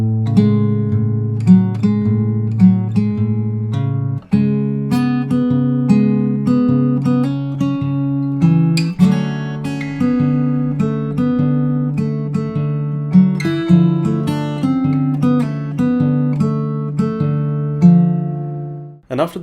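Fingerpicked acoustic guitar plays a steady, flowing pattern of plucked notes over sustained low bass notes, continuous and close.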